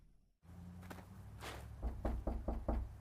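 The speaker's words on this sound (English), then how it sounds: "Knock louder." Someone knocks on a door: a couple of soft taps, then a quick run of about five firm knocks, moderately close and alone.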